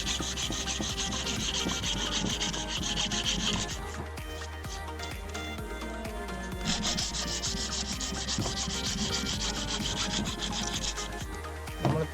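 A coconut shell is cut into a square shape with rasping, scraping saw strokes that come in steady, close runs, with a brief quieter stretch midway before the grinding strokes resume.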